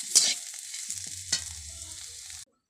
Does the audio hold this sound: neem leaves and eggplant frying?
yes